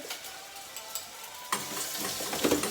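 Food frying in a pan while being stirred, a steady close sizzle with scraping and clattering stirs that grow louder partway through, in a Japanese home-cooking setting.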